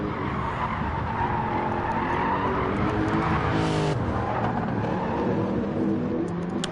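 Race car tires skid loudly in a PS4 racing video game during an online race, a sustained screech over roaring engine noise, with no talk.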